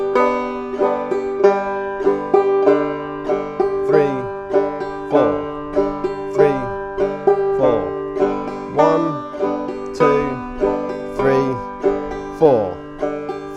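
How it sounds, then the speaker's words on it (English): Clawhammer banjo played in a basic frailing strum, plucking the third and fourth strings alternately in a steady, bright, ringing rhythm of repeated notes and strums, close and clear, without talk. "we're going to incorporate that into the basic frailing strum."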